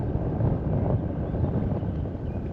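Strong wind buffets the microphone on a fishing outing for steelhead, a dense, continuous low rumble with no other distinct sounds over its brief span.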